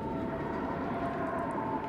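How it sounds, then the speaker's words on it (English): A continuous low howling drone in the video game Still Wakes the Deep, with a steady wavering tone throughout, constant in loudness with no voices. "What is that howling noise?"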